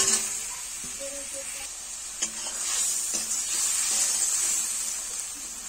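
Fried mourola fish drop into a hot pan of mustard and chili paste with turmeric, setting off a steady close sizzle with a brief clatter as stirring begins.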